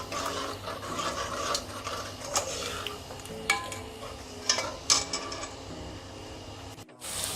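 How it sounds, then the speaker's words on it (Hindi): Chicken kofta curry masala with yogurt being fried in a pan, with steady stirring and scraping of a spoon against the metal, occasional sharper clinks, and a low background hum throughout. "अब इसको 10 मिनट के लिए भून लें।"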